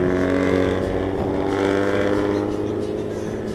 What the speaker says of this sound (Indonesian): Walaupun nggak lihat busnya, kalau dengar knalpotnya, ini udah Yanti Group yang lewat.